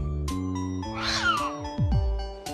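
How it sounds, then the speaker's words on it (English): A cartoon cat in a video game meows with a long, drawn-out wail in the middle, loud and close over steady game music. "Oh no, it's Captain Cat"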